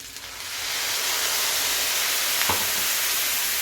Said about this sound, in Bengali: এটাকে এবার আমি ভালো করে ভাজা করে নিচ্ছি